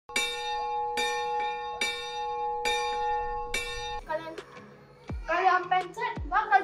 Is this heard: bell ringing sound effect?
yes